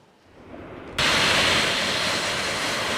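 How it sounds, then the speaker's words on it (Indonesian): A presidential aircraft landing at King Abdul Aziz International Airport in Jeddah, Saudi Arabia. Quiet at first, then a sudden loud, steady jet engine roar that holds at full strength. "Pesawat kepresidenan mendarat di Royal Terminal Bandara Internasional King Abdul Aziz"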